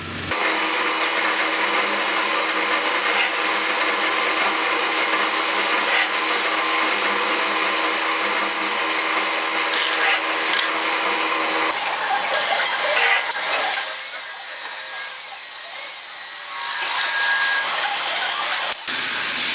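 A drill bores a hole in a metal part for a small wobbler engine. It makes a steady, loud grinding whine close by for most of the stretch, eases off briefly near the end, then picks up again.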